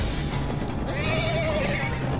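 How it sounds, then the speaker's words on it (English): Horses in the game Minecraft Story Mode whinny over a steady, noisy background bed, a rising and falling neigh carried through the middle of the short stretch without any talking. "Horses."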